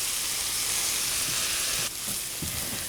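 Shredded vegetables for chicken egg rolls cooking down in a hot pan, a steady close sizzle throughout with a few soft low knocks near the end and no talking.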